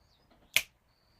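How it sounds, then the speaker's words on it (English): A single sharp finger snap sealing a cord cutting ceremony, crisp and close, in an otherwise quiet room. "you're going to snap your fingers to seal it for good for this ceremony"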